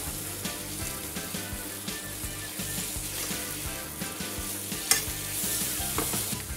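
Floured veal scaloppine sizzle steadily in a hot pan while being stirred and turned, with continuous frying crackle and occasional scraping clinks, no talking.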